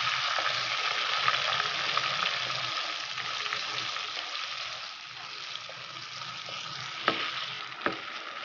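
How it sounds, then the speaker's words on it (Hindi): Bread frying in milk in a pan for bread halwa gives a steady close sizzle, with soft stirring scrapes and a couple of sharp spoon knocks near the end. "अब हम इसमें ये ब्रेड डाल देंगे। इसे अच्छे से भून लेंगे।"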